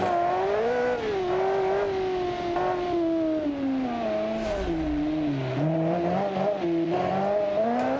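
A 1300-horsepower car in the BeamNG.drive racing game revs hard during a clutch kick, its loud engine note climbing and dipping in pitch over several seconds with no pauses and no talk.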